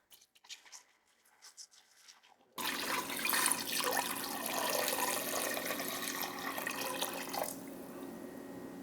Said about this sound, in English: Now we're just going to add enough water that everything is all the way covered.